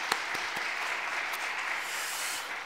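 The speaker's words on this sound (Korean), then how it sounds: "우리 박수로 한번 축복하는 인사를 드리고 있었습니다" A church congregation applauding in blessing during a Friday evening dedication service, a dense, even patter of many hands filling the space, steady and moderately distant, with a few sharper claps early on and no talk.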